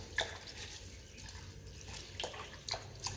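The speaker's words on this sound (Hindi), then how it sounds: "फिल्टर वाले पानी ने मैं भेऊंगी अच्छी तरह" Lentils are washed in filtered water, with quiet intermittent splashes and sloshing from a bowl coming in small bursts against a faint background.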